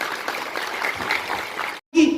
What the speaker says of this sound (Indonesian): Kalau setuju boleh berikan tepuk tangan teman-teman.